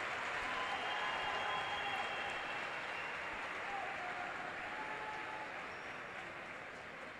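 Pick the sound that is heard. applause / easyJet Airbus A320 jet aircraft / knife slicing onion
applause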